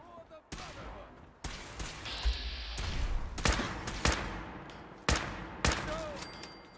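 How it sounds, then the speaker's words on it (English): Scattered gunshots in Fallout 4, sharp cracks spaced irregularly over several seconds with a couple of closer louder shots, over a quiet background with some voice. "Bunch of shots."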